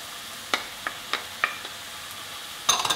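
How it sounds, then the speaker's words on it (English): Canned tomatoes tipped into a hot pan of spaghetti bolognese, giving a few short, sharp splatters and stirring clicks spaced apart, then a brief louder burst of sizzle near the end, close and quiet with no talk. "Now at this stage, what we want to do is add in our tomatoes."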